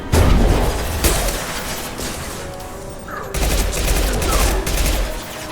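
Rapid bursts of gunfire in the video game Mass Effect 2, loud sustained volleys with a short lull midway before another heavy barrage.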